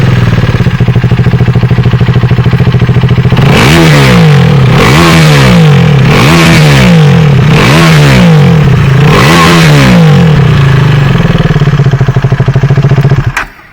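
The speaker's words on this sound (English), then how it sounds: "that is how a Rogue exhaust sounds without the DV killer" A KTM Duke 390 motorcycle with a Rogue exhaust and the dB killer removed idles loudly up close, then blips through five sharp rev surges before settling back and cutting off.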